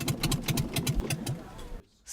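Small smugglers' boat engine running at night on the Aegean Sea, a steady pulsing chug that abruptly cuts out near the end, leaving near silence.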